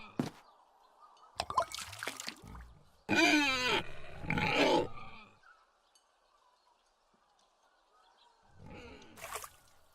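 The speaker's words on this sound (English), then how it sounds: "Drunken swine are funny" Pigs in the video game The Dark Eye: Chains of Satinav, giving a few short, close grunts and squeals in separate bursts against a quiet, dripping ambient background.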